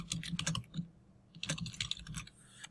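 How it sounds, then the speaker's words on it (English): Fingers tap quick bursts of keystrokes on a computer keyboard, close and crisp, with a short pause between two clusters of typing. "We would type in a script name, my code, type in your author name"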